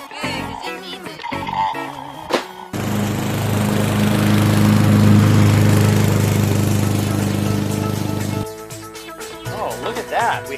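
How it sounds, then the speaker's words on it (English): A toy lawnmower's motor runs with a loud, steady buzzing whir for several seconds between stretches of excited talk, starting and stopping abruptly. "Lawnmower. Wow, it's got a motor and everything."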